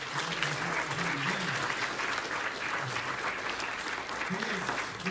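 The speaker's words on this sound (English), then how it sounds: "Why don't you go ahead and give him a round of applause." A church congregation at Sunday morning worship applauds steadily for a member's 90th birthday, a dense wash of clapping throughout, with some voices talking faintly underneath.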